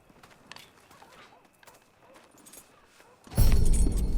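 Horse sounds from the Red Dead Redemption 2 video game, with quiet scattered clopping and rustling followed by a sudden loud burst of heavy, close movement near the end.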